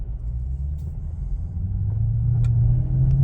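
A supercharged V8 Toyota Celsior, a TOM'S Racing tuned JDM sedan, pulls away under acceleration with a deep, steady engine rumble that swells slightly louder as it gathers speed, heard from inside the cabin.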